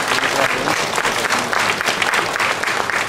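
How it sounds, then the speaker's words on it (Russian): Dense, steady applause from delegates filling a hall at the founding party congress, loud and sustained throughout with no break. "Давайте еще раз аплодисментами поприветствуем друг друга и всех гостей съезда."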